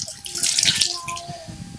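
Running water rinses detergent off after a wash, splashing and gurgling steadily and fairly close, with slight trickling and drips throughout.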